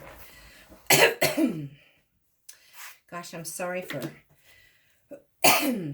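A few short, dry coughs come in quick bursts close by, with a person speaking briefly in between.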